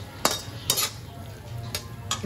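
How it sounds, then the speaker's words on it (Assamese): Pasta being stirred in a pan with chili flakes and ground black pepper, a utensil clinking and scraping against the metal in a few sharp strokes over a low background hum, with no talking. "এয়া মই লগতে চিলি ফ্লেক্স অলপ দি দিছোঁ, অলপ জালুকৰ গুড়ি দি দিলোঁ আৰু এতিয়া আটাইখিনি ধুনীয়াকৈ লৰাই দিছোঁ।"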